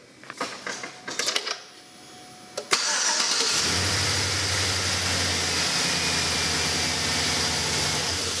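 Cranking and starting a truck engine: brief clicks and a short crank, then the engine catches and settles into a steady, loud idle close by.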